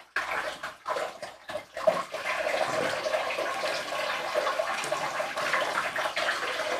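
Steady splashing water pours and rinses over rockwool grow blocks for several seconds, with a few brief gaps near the start before the flow becomes continuous.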